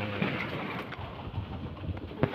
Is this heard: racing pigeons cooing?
yes